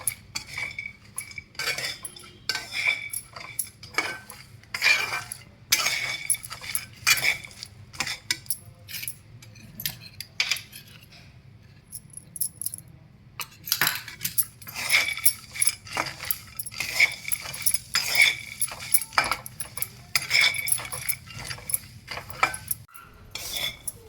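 Masala peanuts being stirred and roasted in a pan, with dense, irregular metallic scraping and clinking of a utensil against the pan throughout, fairly close and steady, with a brief quieter lull in the middle and no talking.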